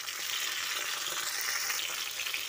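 Pointed gourd (potol) pieces fry in hot oil with salt and turmeric, giving a steady, dense sizzle that is close and continuous throughout.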